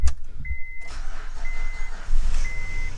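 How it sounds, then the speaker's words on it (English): Cadillac CTS-V, left sitting a while, cranked and starting up: a short crank burst, then the engine catches and settles into a steady loud idle with a faint whine, close by and alone. "let's see if it'll fire up here."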